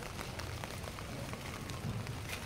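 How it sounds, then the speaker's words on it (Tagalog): Rain falls steadily outside in a rainy garden, a soft, faint, even patter and hiss with no other sound over it. "Maulan kasi."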